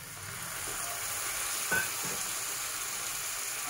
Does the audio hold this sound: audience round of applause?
no